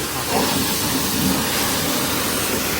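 A vehicle being washed during servicing, with a constant loud hiss of pressurised water spray close by, steady and unbroken for the whole stretch with no voices.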